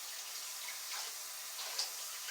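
Hot soapy water runs steadily from a kitchen tap, a soft continuous hiss and splash close by with no talking.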